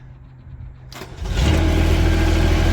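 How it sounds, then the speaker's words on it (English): A firewood processor's engine cranks briefly and catches, then settles into a loud, steady mid-pitched running drone close by. "You got to start the engine up."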